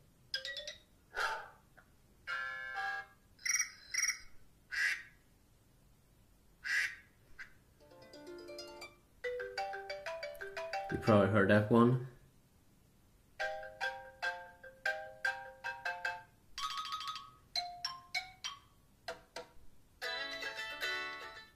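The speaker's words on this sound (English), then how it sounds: "you do get the old ringtones that you do get in iOS 6 in a classical folder here" Old iOS 6 classical-style ringtones play one after another on an iPhone, a series of short, clear electronic melodies and chimes separated by brief pauses. A voice briefly speaks between them.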